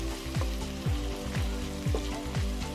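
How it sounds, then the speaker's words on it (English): Onions and garlic sautéing in a pan for a Japanese curry, a steady close sizzle with repeated scraping stirs at roughly half-second intervals. "we're gonna add the garlic, and then we're gonna saute that until it's fragrant"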